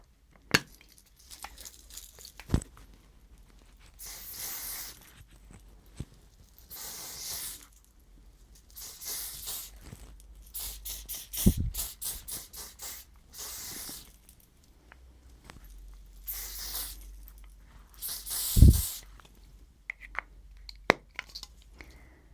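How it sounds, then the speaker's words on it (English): Several short hissing bursts of a hair shine spray can, spaced apart over quiet background with occasional soft handling clicks. "Just pop a little bit of shine spray."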